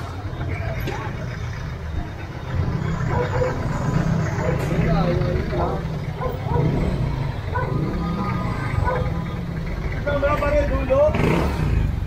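A motorcycle engine rumbles continuously on a street during a road-clearing operation, a low steady drone close by with people talking over it.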